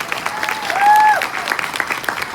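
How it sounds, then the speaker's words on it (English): Audience applause at a Mary Kay career conference at National Harbor, a steady, fairly loud spread of many hands clapping in a large room, with a brief whistle or cheer rising in the middle. "Give her a big round of applause."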